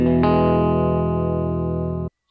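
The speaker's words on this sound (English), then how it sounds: "without reverb, it sounds like this" A distorted electric guitar chord is struck, re-struck, then held dry without reverb, sustaining loud and steady before cutting off abruptly into silence.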